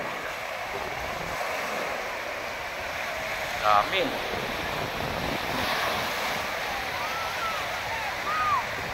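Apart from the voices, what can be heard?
ocean waves at the beach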